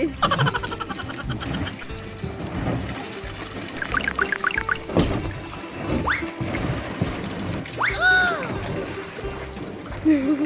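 Water pours and trickles into a private jacuzzi tub, a continuous splashing flow heard close by while voices talk and exclaim over it.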